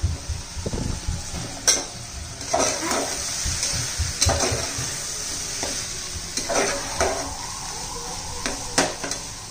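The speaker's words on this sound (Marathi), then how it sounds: "हे सगळं व्यवस्थित आपण तेलात परतून घेतलेलं आहे" Spices and biryani masala frying in oil, stirred with a spoon in a pan for a winter field-bean rice dish: crackling sizzle with repeated scraping, rhythmic stirring strokes and light clinks, close and moderately loud, no voices.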